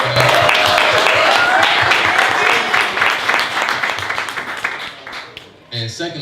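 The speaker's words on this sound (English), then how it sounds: "can everybody give Rel a round of applause right there" Audience applause at a live Q&A event with a creative consultant, a dense wash of clapping filling the room for several seconds and fading toward the end, with a voice speaking over it.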